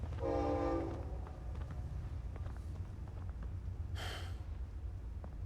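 A train in the video game Final Fantasy 16 sounds a short horn blast at the start over a low, steady rumble of passing rail cars, with a brief breathy hiss later.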